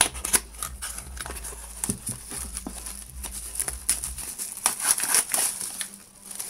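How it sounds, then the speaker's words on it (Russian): Tape and plastic packaging of a taped parcel crinkle and crackle as it is opened, irregular close-up rustles and crunches alone with no talk. "Так, как бы его аккуратно вскрыть, чтобы не порвать."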